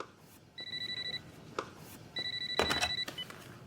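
A telephone rings in two electronic bursts with a short pause between, clear and fairly close, with a brief clatter near the end and no talking.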